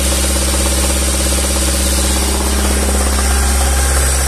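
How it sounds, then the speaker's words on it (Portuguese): A car engine idling with a slight knock, loud and close, a steady rumbling drone with a faint rhythmic tapping running through it the whole time. "O motor tá dando uma batidinha"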